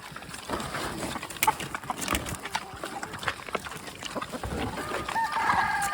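Hens cluck in short bursts over a busy, noisy farmyard background, with a few sharper calls standing out near the end.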